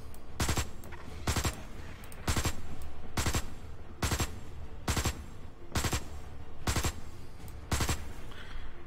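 A big gun in the video game Osiris: New Dawn fires about ten heavy, evenly spaced shots, each a loud broadband blast roughly a second apart, over a steady low background with no talk.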